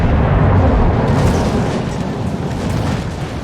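Loud game explosion from a destroyer being blown up in a World of Warships naval battle, a heavy sustained rumbling boom that roars at the start and slowly settles into a dense rolling roar.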